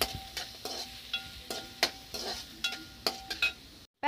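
Mushroom Manchurian is sautéed and stirred in a pan: a low sizzle under a run of quick spoon scrapes and light metallic clinks, then a brief drop to silence at the end.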